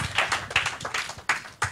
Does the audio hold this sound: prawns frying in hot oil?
no